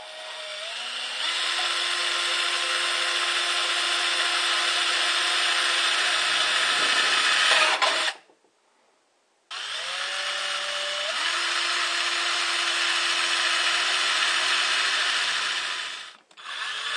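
Power tool cutting a hole in a tin can for a small charcoal-fired foundry, two long loud whining cutting passes separated by a brief pause, with pitch dropping as the load increases.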